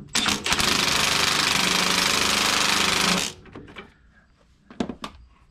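A Milwaukee impact wrench on its lowest setting hammers loudly and steadily for about three seconds on a Jeep JK front end, then stops, followed by a few clanks and knocks of tools.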